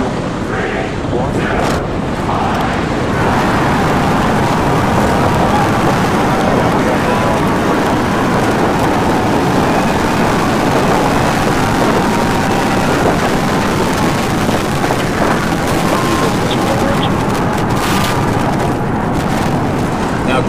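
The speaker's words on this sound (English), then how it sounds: "the big event was the launch of Ship 28 and Booster 10. Here are a few sights and sounds." SpaceX Starship launch of Ship 28 with Booster 10 at Starbase, heard as a continuous, loud, broadband rocket roar with crackling rumble lasting the whole stretch, with some wind buffeting on the microphone.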